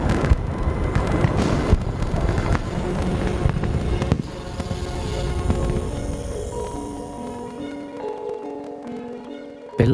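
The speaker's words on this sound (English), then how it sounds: "The rockets are fired and the crackers touched off." Rockets and large firecrackers being set off, a dense run of sharp bangs and crackles that fades into a lingering, ringing tail, loud and close, with no voices.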